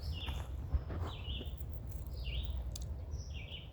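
A red-eyed vireo sings along a nature path, giving short, repeated high phrases with pauses between them. The song is faint and comes from a distance over steady low outdoor rumble.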